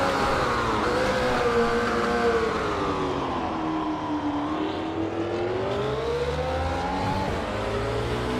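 A Porsche 904 race car engine drones continuously in a historic Le Mans racing game, its pitch rising and falling as it revs through gears, loud and close with no talking.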